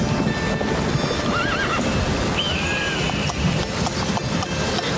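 A horse whinnies over a steady patter of clip-clopping hooves and busy background noise, with the neigh rising in the middle and the hoofbeats continuing throughout.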